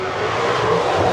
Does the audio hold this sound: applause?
no